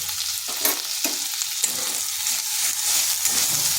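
Tomato and a little salt go into a pan of lightly fried onion, giving a close, continuous sizzle broken by several sharp scraping stirs of a spatula against the pan.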